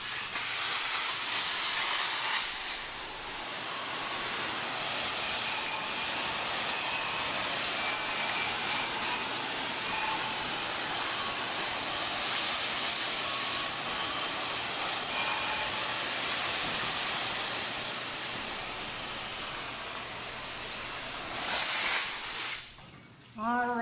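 A water hose sprays an animal in a steady, close, hissing rush that runs without a break for about twenty seconds, then cuts off as a brief voice sounds at the end.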